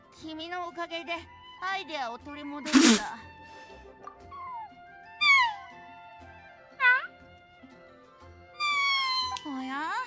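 A cat meowing in the video game Genshin Impact, its cries recurring several times over game music and other character sounds, with a person talking at moments.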